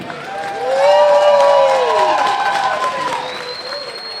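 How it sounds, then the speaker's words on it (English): Fight fans at a Pure FC pankration event applauding and cheering the two fighters, a sustained crowd roar with clapping that swells, while a loud whooping voice rises and falls over it. "how about a round of applause for these two?"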